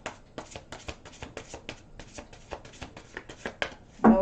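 Quick, crisp riffling and snapping of tarot cards being shuffled, a rapid series of bursts close up, ending with a brief voice.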